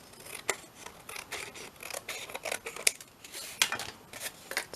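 Scissors snipping through paper for a paper bag journal, a close series of crisp, irregular cuts with soft rustling between snips and no voices.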